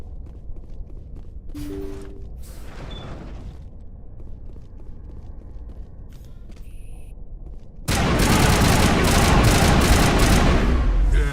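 Automatic gunfire bursts from Mass Effect 1, preceded by sparse mechanical clicks and clanks, then erupting into a loud, continuous volley of shots over the final few seconds.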